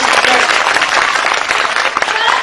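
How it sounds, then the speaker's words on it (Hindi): An audience gives loud, dense, continuous clapping, a full round of enthusiastic applause lasting a couple of seconds. "जोरदार ताली बजाओ"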